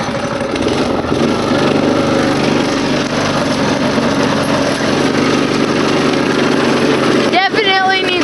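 A small vehicle's engine runs close by, a loud, steady buzzing drone that ends with a short sputter and a rising whine.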